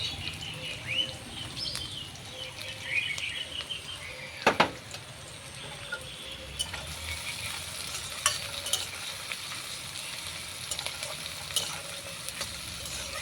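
Chopped garlic, chili and onion sizzle gently in a pan, a soft steady fry broken by scraping and clinking stirs, including one sharp knock, with no talking.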